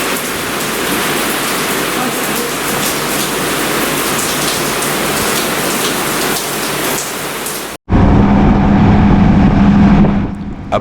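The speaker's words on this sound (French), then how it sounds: "il peut y avoir de grosses averses de pluie ne dépassant pas généralement les 30 minutes" Heavy tropical rain shower in the Maldives, a dense steady hiss of downpour drumming on surfaces, loud and close throughout, changing abruptly near the end to a harsher, more enclosed roar.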